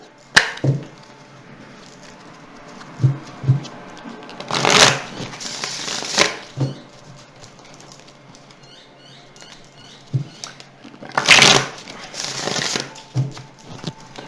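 Tarot cards are shuffled in bursts of riffling and sliding, with soft taps and card flicks between the louder flurries, close and alone.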